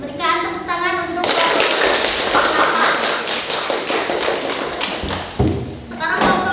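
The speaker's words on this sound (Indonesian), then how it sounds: "Berikan tepuk tangan untuk" Classroom applause from pharmacy students for the next group's presentation, dense clapping from many hands that begins after a voice and runs for several seconds, dipping at the end before a few more claps and voices.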